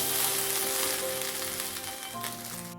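Peas pulao with ghee stirred in a pan, the flame off, gives a steady soft sizzle with faint scraping throughout, close and alone.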